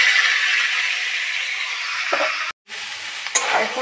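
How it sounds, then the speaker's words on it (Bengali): Potatoes and vegetable stalks frying in a kadai of hot oil give a steady, loud sizzle that cuts out briefly near the end, then resumes with a few light stirring clinks. "এখন ডাঁটা আলুগুলো একটু ভেজে নিই।"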